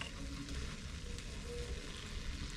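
Spider conch shells sizzle steadily over a grill outdoors, a dense continuous crackle and hiss held close with no pauses.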